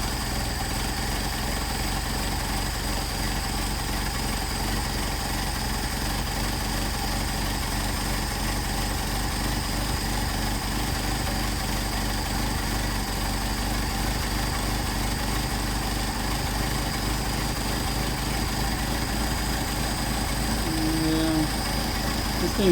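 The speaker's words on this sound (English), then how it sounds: "just give you an idea that how well the engine idles at that low RPM" A Mercedes 190SL engine on Solex 44PHH carburetors idles at low RPM in a steady, unbroken low rumble that holds even and close throughout, with no talking over it.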